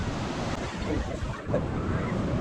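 Ocean surf washes in at Uvongo Beach on South Africa's South Coast as a steady, close hiss of breaking waves mixed with wind noise on the microphone, with no talking.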